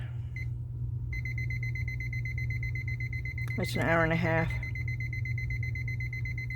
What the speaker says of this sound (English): Oh, this beeping is wonderful.